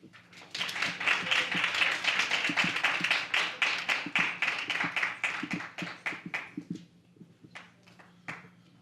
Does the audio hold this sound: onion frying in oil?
no